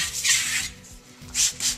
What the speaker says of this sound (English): You're literally sharpening the edge of your trowel on the clay.